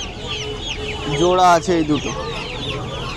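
A pair of large fighter chickens at a hen market let out a loud, close burst of clucking calls midway, with someone talking over and around them.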